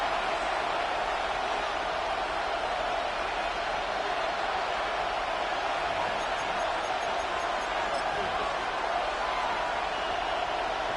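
Steady roar of a stadium crowd in an EA Sports football video game, Patriots versus Colts late in the fourth quarter near the goal line, a constant dense wash of cheering with no breaks.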